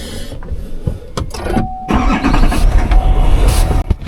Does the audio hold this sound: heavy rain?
no